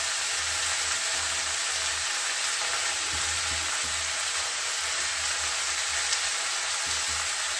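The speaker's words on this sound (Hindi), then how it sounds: "और इसको फ्राई कर लेंगे।" Tomatoes fry with salt in a pan, giving a steady, close sizzle with faint stirring scrapes and no talk.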